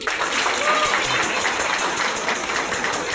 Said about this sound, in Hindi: इसके लिए आप लोगों का जोरदार ताली बजाइए।